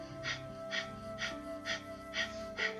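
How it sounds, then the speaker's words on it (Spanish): Kapalabhati breath of fire during a yoga session: six sharp, rhythmic nasal exhalations about half a second apart, close and distinct over a faint sustained musical drone. "Respiración de fuego o Kapalabhati. Inhalando y exhalando por la nariz."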